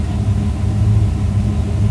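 A pickup truck fitted with a new Skip White Performance 383 small-block Chevy engine rumbles along a freeway, a deep, steady low engine drone with no voices over it.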